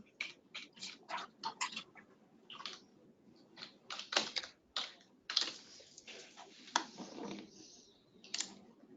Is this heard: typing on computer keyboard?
yes